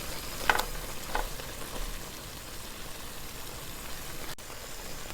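Cashews sizzling in hot fat in a pan while making carrot halwa, a soft steady crackle with a few louder pops near the start, heard alone.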